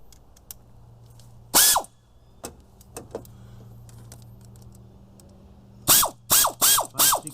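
A ratchet loosens 5/16 hose clamp nuts on a Chevy Impala, giving a few single clicks and then a clear burst of four rapid ratcheting strokes near the end, close and crisp with no talking.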